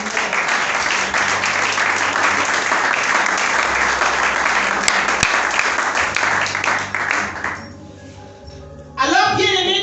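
A church congregation applauds in a long, dense burst of clapping that fills the space, with a couple of bright ringing pings midway, then fades as a voice and sustained tones take over.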